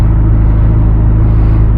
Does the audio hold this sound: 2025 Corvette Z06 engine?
yes